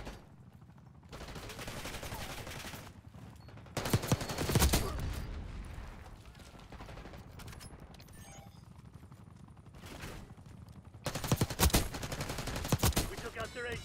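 Bursts of automatic gunfire in a military shooter match, heavy volleys around four and eleven seconds over a steady background of distant shots and game noise, with no talking.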